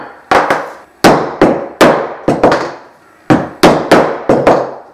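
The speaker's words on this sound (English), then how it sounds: "To simplify the process, I use a 4-in-1 punch with just a leather making hammer." A leather-making hammer drives a 4-in-1 punch into leather while crafting an axe ring, giving about ten sharp, loud, close knocks in uneven pairs and clusters, each ringing briefly before the next, with no talking.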